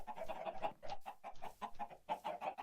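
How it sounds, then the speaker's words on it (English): Chickens cluck repeatedly in a Minecraft chicken coop, a busy overlapping stream of short game-animal clucks at moderate volume with no talk. "My Paul Soares chicken coop right here."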